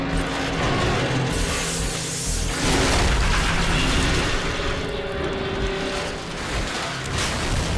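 Explosion destroying an electric tower in Call of Duty 4 Modern Warfare, a heavy booming blast with rumbling debris amid ongoing roaring combat noise, loud and sustained.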